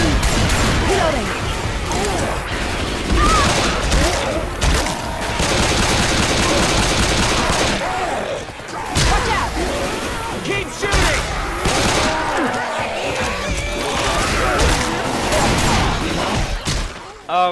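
Rapid gunfire bursts hammer away at the Tank in Left 4 Dead 2, dense and loud throughout with crashes and clatter mixed in, while players talk over the shooting.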